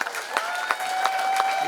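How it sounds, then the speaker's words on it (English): Crowd at a Lincoln County fire jamboree claps in a steady round of applause for local firefighters, dense and continuous with sharper bursts, a faint tone running beneath. "So I want to give another round of applause for these guys"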